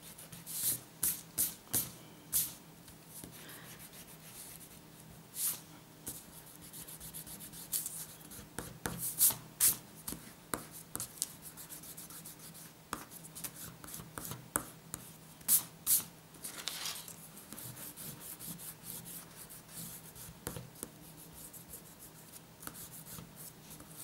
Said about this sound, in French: on peut tout effacer